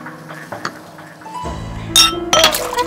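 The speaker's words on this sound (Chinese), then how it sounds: "来碰一个吧。 是啊，咱们干一杯吧" Glasses clink in a toast at a dinner gathering: a few light clinks, then louder, sharp ringing glass knocks, close and clear with no talking.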